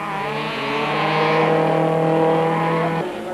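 A Ford racing pickup in an off-road race, its engine holding a loud, steady, close roar that climbs slightly in pitch before dropping off near the end.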